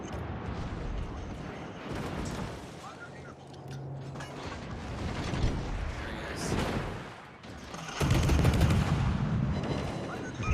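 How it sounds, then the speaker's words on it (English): Gunfire and blasts from a World of Warcraft battle, dense bursts of shots and impacts rolling through the whole stretch, loudest near the end, with a voice talking over the fighting. "Now you're taking fire from an unknown location"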